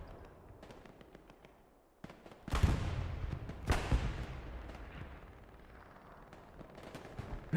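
Gunfire in the online shooter Hell Let Loose during a competitive match: scattered rifle and machine-gun bursts, some close and loud, others more distant, with a heavy crack midway and a lingering rumble.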